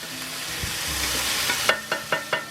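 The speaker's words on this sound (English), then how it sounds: "We don't want to burn the garlic, so we're going to kind of move that off to the side." Garlic sizzles in a hot pan as a steady, close frying hiss, then a few sharp scraping knocks follow in a quick row as the pan is stirred near the end of the sizzle.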